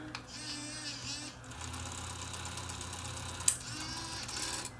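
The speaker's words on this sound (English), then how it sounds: "Rewind. And fast forward." A tape rewinder's small motor whirs steadily on fast forward, a continuous mechanical hum with a sharp click partway through, close and alone without speech.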